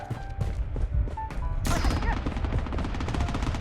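Rapid gunfire from the Blood Strike shooter game, with dense overlapping bursts of shots that grow fuller and more continuous partway through, loud and close.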